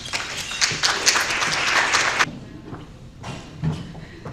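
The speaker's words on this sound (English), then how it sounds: "Let's give her another round of applause for that passion." An audience at a legislative dinner bursts into a couple of seconds of loud, dense clapping, which cuts off abruptly and leaves scattered thumps and a short second patter of claps.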